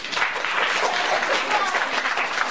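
Audience applause in a studio, a steady wash of clapping from many hands lasting the full stretch, with a little voice activity mixed in.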